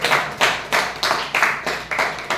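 Rhythmic clapping at a speaking club meeting, about seven distinct, evenly spaced bursts of several hands, fairly close and loud with no talk.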